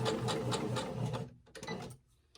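A sewing machine runs in quick rhythmic stitching bursts on a fabric napkin ring for about a second, then stops and briefly restarts with a few short clicks, close and fairly quiet.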